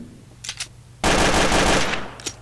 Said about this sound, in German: Ah, da schießen welche.